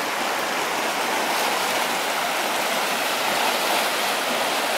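Surnukoski rapids run high during log floating, a loud, constant roar of rushing whitewater heard close up and alone, with no voices.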